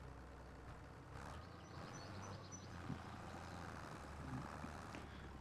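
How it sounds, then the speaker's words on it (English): Steady low engine drone of a tractor in Farming Simulator 25 runs continuously at moderate level, with faint higher mechanical whines and a couple of small knocks over the top. "Oh, get in the tractor."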